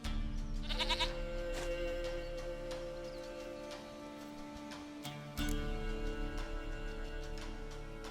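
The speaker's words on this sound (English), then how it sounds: "Goat of mine, dearest, sweetest goat." A goat bleats in The Witcher 3 video game, a short burst of repeated bleats near the start, set against a steady game ambience with tonal music and low hum that continues throughout.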